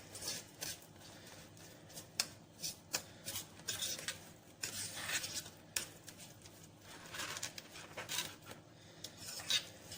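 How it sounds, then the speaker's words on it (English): Metal scrapes against metal as stuffing is mixed for a budget Christmas dinner, irregular faint grating strokes and clinks in quick uneven bursts. "Do you know that sound of like metal and metal?"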